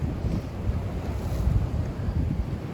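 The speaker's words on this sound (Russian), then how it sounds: "Так, ждем еще одну волну большую." Stormy sea at night along the Yalta waterfront: continuous rumbling surf and strong wind noise on the microphone, dense and unbroken with no talking over it.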